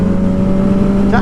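A motorcycle engine revs hard and steady up close as the rider pulls a wheelie, a sustained loud drone with a rising whine near the end.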